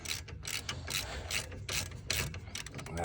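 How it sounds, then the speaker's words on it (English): Ratchet clicking in quick bursts while loosening brake caliper bracket bolts on a 2006 Dodge Ram 1500 Mega Cab, close and crisp, with short pauses between strokes. "All right, so just get these bolts out and stuff."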